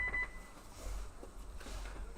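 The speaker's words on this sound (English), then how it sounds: "hits the buzzer, and if he's clean, that'll solidify point 1 for that game" A short electronic buzzer tone sounds at the start of an arena paintball event, a brief high beep followed by muffled arena noise and faint background activity.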